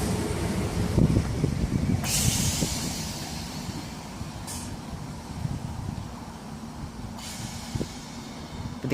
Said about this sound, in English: But this is 319443 and 319421 off to Sevenoaks from West Hampstead